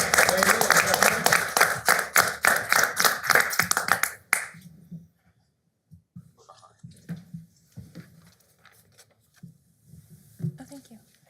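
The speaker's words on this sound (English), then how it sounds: "Another round of applause." A city council meeting audience gives a round of applause, with brisk, dense clapping for about four seconds that stops abruptly, followed by scattered small noises and low voices in the room.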